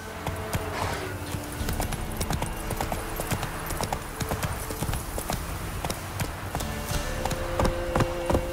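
A horse galloping in The Witcher 3, with continuous rapid hoof clip-clops that stay close and fairly loud throughout.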